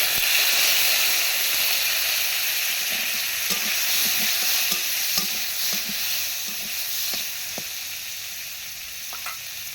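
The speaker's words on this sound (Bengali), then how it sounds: "পনিরটা এরকম একটু লাল করে ভেজে নেব" Paneer cubes fry in hot oil in a wok with a steady, close sizzle and crackle, accompanied by occasional light stirring clicks, no talking.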